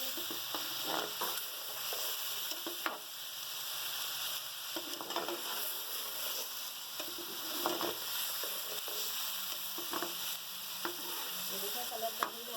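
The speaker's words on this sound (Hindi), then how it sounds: "देखें माशाल्लाह से हमारी चिकन बहुत अच्छी फ्राई हो चुकी है" Chicken fries in a karahi pan with a steady, moderately loud sizzle, punctuated by occasional stirring scrapes and clinks at irregular intervals.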